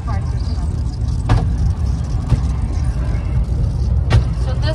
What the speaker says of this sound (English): The cable car is coming.